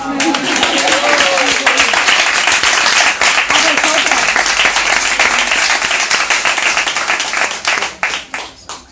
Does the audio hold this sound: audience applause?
yes